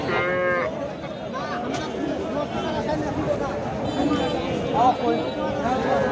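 Bulls low repeatedly at a crowded Kaharol cattle market, deep drawn-out moos rising over the constant chatter and hubbub of buyers and sellers nearby.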